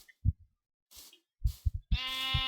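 Sheep bleating in Minecraft 1.10.2, a few short game-sound bursts spaced apart, ending in a sustained harmonic bleat, clear and close with no talk.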